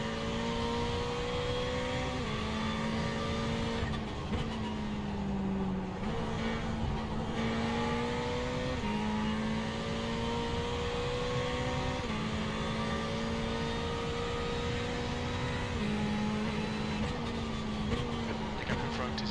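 Ferrari 488 race car engine at Brands Hatch in iRacing: a loud, continuous engine drone that climbs in pitch through each gear and drops sharply at every shift, running under a voice.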